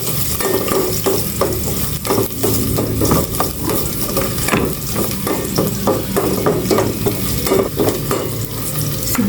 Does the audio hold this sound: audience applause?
no